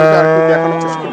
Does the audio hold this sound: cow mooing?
yes